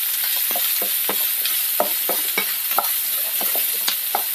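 Onion, green chili and garlic sauté in a pan over medium flame, with a continuous close sizzle and repeated scraping stirs of a spoon against the pan.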